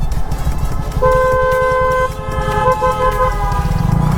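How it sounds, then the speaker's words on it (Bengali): Loud vehicle horns honking in sustained blasts over rumbling engine noise on a mountain road turn, close by, with one long tone followed by a second overlapping horn. "এই যে দেখেন সবাই কিন্তু টার্নিংয়ে অনেক হর্ন দিয়ে এসছিল"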